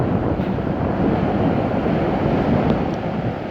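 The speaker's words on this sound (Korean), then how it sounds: "파도는 한 1m 정도 돼 보입니다" Sea waves about a metre high break at a beach near a river mouth in Uljin under a southeast wind, a steady, loud wash of surf with wind rumble and no pauses.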